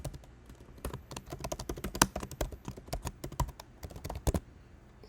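Someone types a password on a computer keyboard while setting up an admin account for SUSE Rancher on AWS Marketplace: a close, irregular run of crisp key clicks and taps for about five seconds, with no talking.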